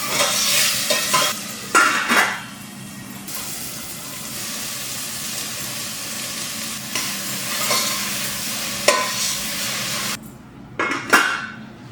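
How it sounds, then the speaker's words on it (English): Spoon stirring chopped tomato and spinach leaves in a cooking pot, with soft sizzling and several scraping clinks against the pot at the start and near the end over a steady simmer. "Giving it a good stir, covering it up with a lid"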